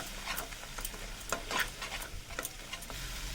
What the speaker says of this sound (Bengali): ভালো করে মশলাটাকে এবার কষে নেব